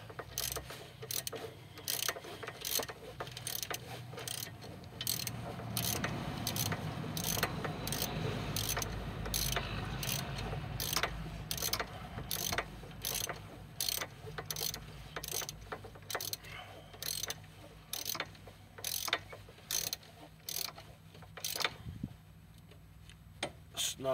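Ratchet wrench tightening the brake caliper bolts on a Pontiac G6, giving long runs of rapid clicking close by, with pauses and a faint mechanical rumble underneath.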